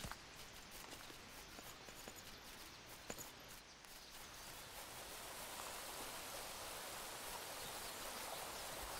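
Steady rain falls in the video game Craft The World, a soft, even hiss with scattered drop ticks that grows slightly fuller and denser toward the end.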